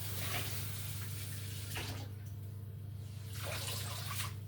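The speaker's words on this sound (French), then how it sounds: "Et donc cette lavette, on va la mouiller." A kitchen dishcloth wetted under running water from a tap: a soft, steady hiss of flowing water with brief splashy bursts as the cloth goes under, close and fairly quiet, with no talking.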